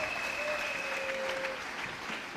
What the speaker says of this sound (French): Acclamons très fort pour les voisins